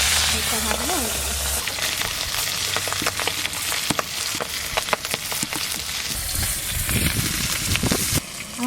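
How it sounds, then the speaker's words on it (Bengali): Stingray fish pieces fry in hot oil for a village-style curry, a dense close sizzle and crackle with occasional stirring clatter and faint voices in the background. "আমার মাছ ভাজা হয়ে গেছে"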